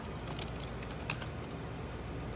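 Keys clatter on a computer keyboard in a few quick, soft taps over a steady background hum, faint and close.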